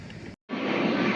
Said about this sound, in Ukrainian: І тут над городом прилітають ось так літаки.